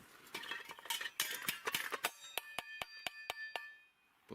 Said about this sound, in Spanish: Hay que golpear los platos.